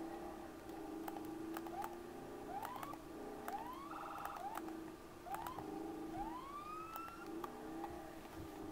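A faint police siren in a video game wails in repeated rising sweeps over a low rumbling engine drone, with occasional short clicks.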